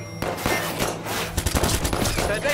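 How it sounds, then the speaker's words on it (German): Automatic gunfire fills a firefight in the PC game Watch Dogs 2, with dense rapid volleys of shots and sharp cracks, loud and close, continuing without pause. "Schüsse an meiner Position."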